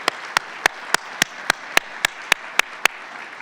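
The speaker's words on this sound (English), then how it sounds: "if you all would join me just in a round of applause for that staff that does this hard work and doesn't often get recognized" University staff receive applause from an audience at a spring chancellor's address, heard as about a dozen sharp, evenly spaced claps in a steady rhythm over a soft wash of crowd noise.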